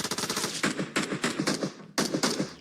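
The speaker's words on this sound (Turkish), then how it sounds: "Şu sıkan adam da sıkıntı ya. Kim sıkıyor böyle?" Bursts of rapid automatic gunfire in the mobile battle royale game PUBG Mobile, several quick rattling volleys with a short gap before a final burst, fairly close and loud.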